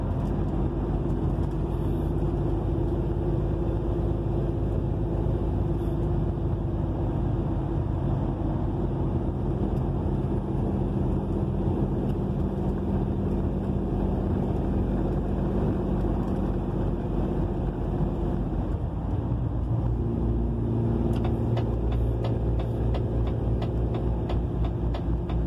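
A delivery vehicle driving on a road near Jaguariúna, a steady in-cab engine drone and road rumble with sustained tones that shift pitch partway through, as if changing gear or speed.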